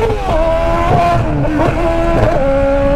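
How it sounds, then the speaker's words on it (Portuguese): A Honda Hornet motorcycle revs hard close by, its engine note rising and falling in several quick climbs through the gears, loud and steady with no talking over it. "Uh, moto levantando, vocês viram?"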